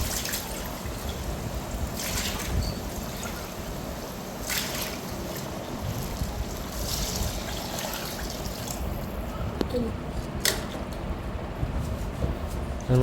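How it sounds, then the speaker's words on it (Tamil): Water poured into a pot for biryani, six tumblers for three cups of rice, a steady trickling and splashing stream under faint background hiss, with a few short clinks along the way. "மூணு கப்புக்கு 6 டம்ளர் 1:2 நான் அந்த அளவில் தண்ணி ஊற்றுறேன்."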